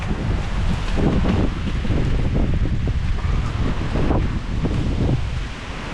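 Typhoon wind gusting hard in an open Philippine village, a loud continuous roar with rustling, buffeting the microphone throughout.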